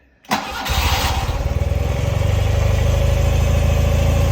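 A 1974 BMW R60/6 motorcycle cold-starts on choke: a brief crank, then the engine catches and settles into a loud, steady, slightly lumpy idle, close by with no talk.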